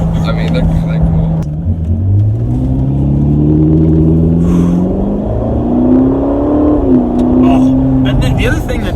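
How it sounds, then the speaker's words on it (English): Ferrari California T engine droning and rising in pitch as it accelerates, a loud steady rumble with climbing tones, while people talk over it. "it sounds like a real Ferrari"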